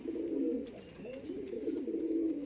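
Giribaj pigeons coo close by in a soft, continuous run of low, rolling calls, with no talking over them.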